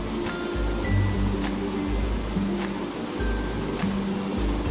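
Mango pieces sizzle in hot mustard oil in a pan, a steady, dense frying hiss heard up close with a low hum underneath.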